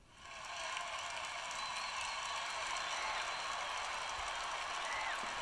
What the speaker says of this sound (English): cheering sound effects